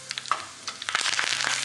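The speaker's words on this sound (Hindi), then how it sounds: "और फिर हम इसमें एक टीस्पून सफ़ेद तेल और 7 से 8 कड़ी पत्ते डाल देंगे।" Curry leaves in a teaspoon of hot white oil sizzle as a khandvi tempering. Sharp crackles and pops come close and fairly soft, growing busier toward the end, with no talk.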